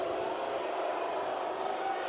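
Basketball arena crowd at a Guinea versus Uganda qualifier game, roaring steadily in support of Guinea, a dense continuous wall of cheering and shouting with no break.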